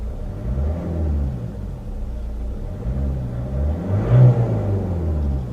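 Engine of a 2010 Ford Kuga Zetec held at around 3,500 RPM, a steady low droning hum with a slight swell near the end, heard from inside the car without talk.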